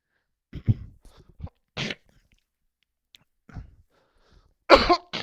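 A person with long COVID gives several short, dry coughs in separate bursts with quiet gaps between them, close and alone, with one harsher, louder cough near the end.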